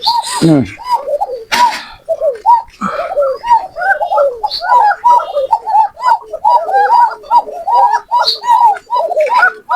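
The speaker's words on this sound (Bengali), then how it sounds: "এইসব কবুতর এমনিতেই খুব কোয়ালিটি ভালো খুব সুন্দর ডাকে" Koka pigeons of the Bashiraj breed coo close by in a steady, repeating rhythm of low, throaty calls, with a few brief higher squeaks and rustles at the start.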